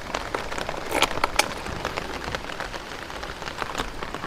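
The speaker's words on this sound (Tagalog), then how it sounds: "Maulan lang kasi." Steady rain pattering on a surface with dense, even drops, moderately loud and close, with no voices.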